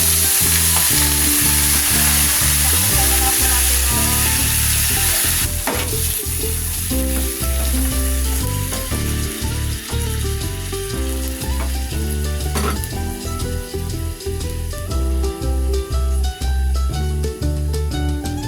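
Steady, loud sizzling of pork frying in hot oil for menudo, with occasional clatters of a utensil stirring the pan.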